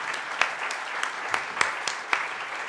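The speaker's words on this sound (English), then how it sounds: "Let's give them a round of applause." Applause from a panel discussion audience, a moderate, fairly thin patter of clapping with a few sharp louder claps standing out, steady and brief with no talk over it.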